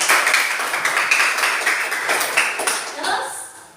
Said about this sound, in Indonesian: Iya, oke, kasih tepuk tangan.